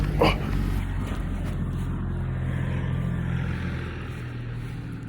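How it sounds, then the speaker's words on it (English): A tractor drives nearby outdoors, giving a low, continuous engine rumble that starts slightly louder and then holds steady before easing off a little toward the end. "There's some tractor coming around here."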